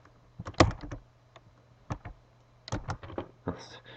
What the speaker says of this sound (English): And I'm going to type SQLite.